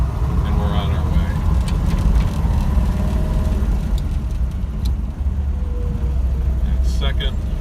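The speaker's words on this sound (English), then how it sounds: "Let the clutch out in first gear, and we're on our way." A 1968 Chevy Camaro pulls away in first gear, its engine a steady, loud low rumble with road noise from start to finish, and a voice speaks briefly over it.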